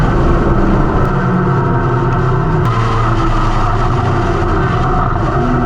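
Lotus race car engine running hard on the track at Circuit Paul Ricard during a Trophée Lotus race, a loud, steady close-up drone with a deep rumble that holds constant throughout, no speech.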